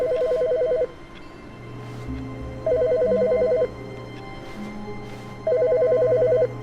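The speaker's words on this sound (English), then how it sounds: "Wait, I hear a phone ringing." A telephone rings in The Stanley Parable, three loud electronic trilling bursts about two seconds apart, each lasting roughly a second, over a quiet low musical hum.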